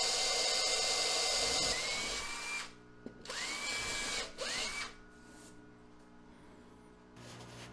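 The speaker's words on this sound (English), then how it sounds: "Just going to drill a hole down through here now." Power drill boring a hole down through a cutting board clamped to the side of a workbench; a loud steady motor whine with short bursts as the bit runs, pausing and restarting several times, close up with no talking.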